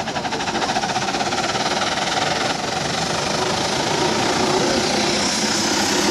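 A steam traction engine chugs steadily at a steam rally, rapid rhythmic beats and hissing gradually building in intensity as it accelerates, loud and near.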